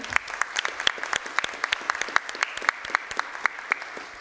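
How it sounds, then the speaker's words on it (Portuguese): An audience at a formal ceremonial session claps steadily, with sharp, irregular hand claps filling the room at moderate volume and no voices over it. "Uma salva de palmas também"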